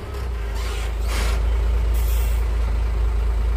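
A truck labours up a steep rocky uphill road, its engine a loud, steady low drone close by, with a few hissing air bursts near the start.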